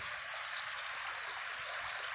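Rain-fed water flowing strongly past a village, a continuous broad rushing wash heard outdoors at steady level, with no talk.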